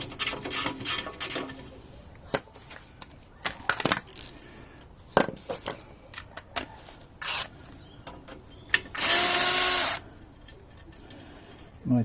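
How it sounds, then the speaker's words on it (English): A small electric drill whirs in one steady burst of about a second near the end, after scattered clicks and handling knocks, while dismantling a Yamaha XJ650 motorcycle clutch. "My tiny drill, because my bigger drill seems to have shut itself"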